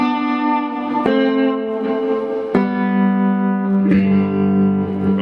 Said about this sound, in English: what you heard here is the G diatonic scale